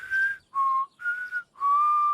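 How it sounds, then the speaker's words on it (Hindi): A person whistles four clear sustained notes, alternating slightly higher and lower in pitch, each held under a second with short gaps, close and fairly loud with no talking. "सीटी बजाने के लिए अभ्यास जरूरी है।"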